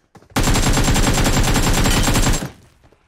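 Gunfire in a video game: one loud, rapid automatic burst lasting about two seconds, tightly spaced shots in close succession, that then cuts off and fades away.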